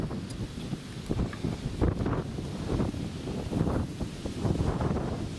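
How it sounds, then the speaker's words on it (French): Gusty outdoor wind buffets the microphone in a steady low roar with rustling surges, near and fairly loud throughout, no talk. "J'espère que le vent gâche pas la fête."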